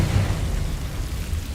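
Confringo, the blasting spell in Hogwarts Legacy, goes off as a deep, muffled explosion, a low rumbling boom that carries on briefly and loudly on its own.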